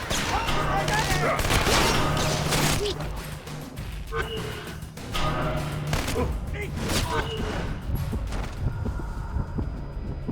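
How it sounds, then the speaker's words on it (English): A flashbang grenade goes off amid a Splinter Cell Conviction firefight, with dense bursts of gunfire and sharp cracks over nearly ten seconds, loud and close, while voices shout over the combat. "I'm throwing a flashbang!"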